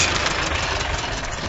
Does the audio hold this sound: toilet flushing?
no